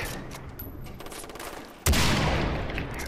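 A loud burst of gunfire in the video game Far Cry 3 hits suddenly, cutting through quieter game ambience and then ringing on.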